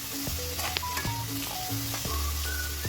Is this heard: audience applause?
no